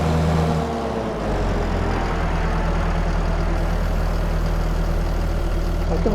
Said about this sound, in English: And then I can start the mower